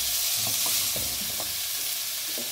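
Crushed red chilli being lightly sautéed in a pan for chicken Manchurian, with a steady close sizzle and a few soft scrapes of stirring, no voices.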